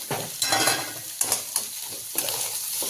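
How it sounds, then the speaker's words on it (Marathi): Potato bhaji with green chillies and coriander being stirred in a pan for puri, spoon scrapes and clinks over a soft, steady sizzle, close and fairly quiet, no voices. "चांगलं हलवून देऊया"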